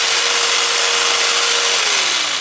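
A jigsaw cuts through a clamped wooden board with a continuous, loud buzzing rasp. A faint whine runs through it and dips slightly at the end.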